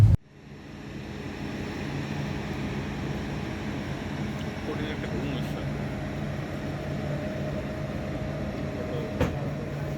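A steady, loud rumble and low hum fill a moving train carriage on a Dhaka to Chapai Nawabganj, Bangladesh journey, with faint background chatter and a brief clank near the end.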